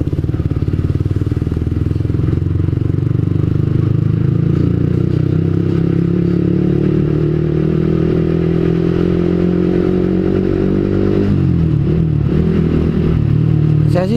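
A motorcycle engine runs loud and close with a throaty exhaust, revving up gradually and then dropping back near the end.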